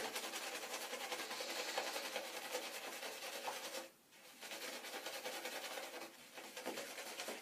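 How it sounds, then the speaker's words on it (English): A safety razor scraping through shaving lather on skin, a close, steady rasping stroke after stroke with a brief pause near the middle, no talking. "I'm going to concentrate on shaving only on areas where there is lather"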